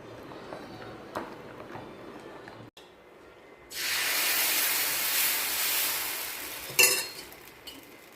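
Dosa batter with coconut, walnut and almond cooking under a lid on a hot pan, giving a sudden loud steady sizzle and hiss that holds for several seconds, with a faint clink near the end.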